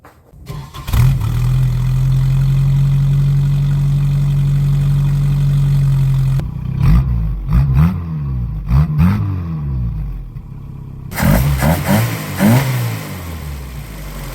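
An Isuzu Trooper engine, revived from rough running, cranks and catches, then idles steadily at close range before a series of loud revs rise and fall in quick bursts.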